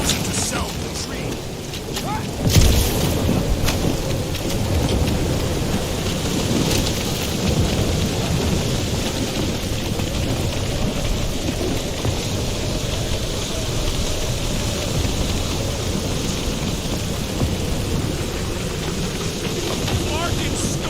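A thunderstorm with rain in the video game Marvel's Guardians of the Galaxy: a steady, dense rush of heavy rainfall and wind, with a loud rumbling thunder burst early on that fades back into the continuous downpour.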